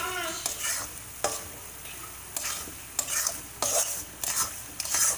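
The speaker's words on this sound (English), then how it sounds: "Now keep stirring." Moong dal halwa with ghee and sugar being stirred in a pan, a spoon scraping through the thick mixture in repeated strokes about every second, with soft frying sizzle underneath.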